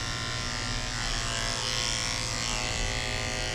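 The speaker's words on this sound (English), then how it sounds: "I'm using a 7 blade to shave the inside of his back legs." Steady, continuous buzz of an electric dog clipper fitted with a 7 blade, shaving a Maltese dog's coat, close and even throughout with no pauses.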